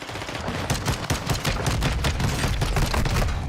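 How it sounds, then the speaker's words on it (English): Dense rapid gunfire in a video game, with fast overlapping bursts like machine gun fire, loud and continuous throughout with no pauses. "It sounded like a machine gun in there with me."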